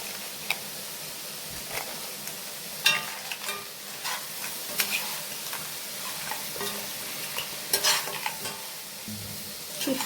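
Freshly cleaned crab stirred and frying in masala in a pan for Chettinad-style crab gravy, a continuous close sizzle broken by repeated spoon clinks and scrapes, no talking.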